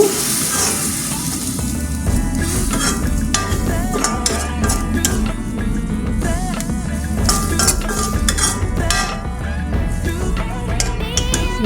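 A metal spoon stirs sebai vermicelli in a pan after lukewarm milk is added, making loud repeated clinks and scrapes against the pan. A steady tonal background plays throughout.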